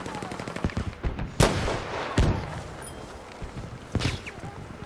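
Semi-automatic rifle fire in an online first-person shooter game rings out as several sharp, loud reports at irregular intervals over faint game ambience and quieter distant shots, with no talking.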